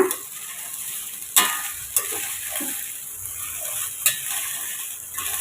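Cauliflower fried rice is stirred in a hot pan: a soft, steady sizzle runs throughout, broken by several sharp spatula knocks against the pan at irregular intervals.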